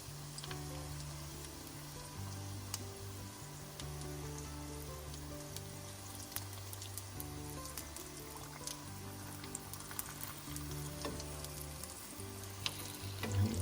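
Malagasy samosas (sambos) fry in hot oil with a steady, close sizzle and crackle, broken by faint pops and light stirring clicks.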